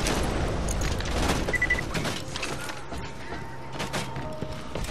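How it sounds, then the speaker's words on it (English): Gunfire from a Goliath enemy in Borderlands 2 comes as bursts of shots and booming impacts mixed with mechanical clanks and game effects, moderately loud and fairly close, with no talk. "Is that the Goliath that's shooting at me?"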